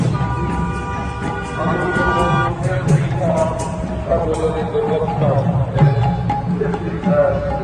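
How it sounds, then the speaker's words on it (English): A crowd gathered for a Durga Puja carnival procession, a steady babble of many voices with horns and chatter around, loud and close, with nearby talk on top. "Just see the people over here. See the crowd."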